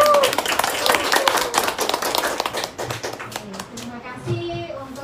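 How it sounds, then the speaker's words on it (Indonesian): Audience at a YouTuber community sharing event claps, dense rapid clapping at first that thins and fades over five seconds, with voices talking near the end. "Terima kasih dan tepuk tangan buat"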